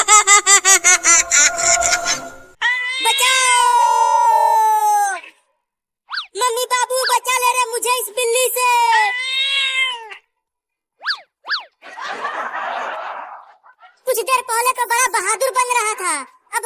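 A cartoonish cat's meows, several rising and falling mews, alternate with bursts of a voice; the meows may be voiced imitations, loud and close with short pauses between calls.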